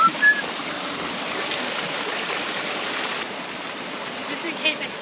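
A river stream flows beside a hiking trail on the Quilotoa Loop, a faint, steady rushing hiss that stays even from start to finish with a couple of small knocks.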